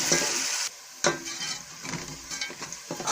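Onions frying in a pan as they brown for an egg and potato curry, bursts of close sizzling broken by short pauses, with soft stirring scrapes.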